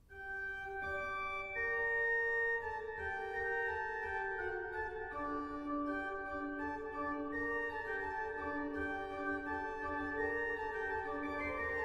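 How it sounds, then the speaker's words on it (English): A single keyboard-like melodic line plays alone at moderate volume, steady notes moving in an ornamented, contrapuntal-sounding phrase, the subject of a Baroque fugue, with no talking. "By and large, a fugue sounds like this."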